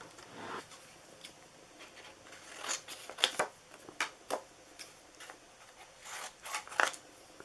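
Scissors snip paper for a handmade Valentine's Day card, a series of short, quiet cuts spaced irregularly, close by.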